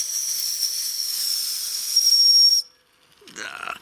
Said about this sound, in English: Let's just try the whistle.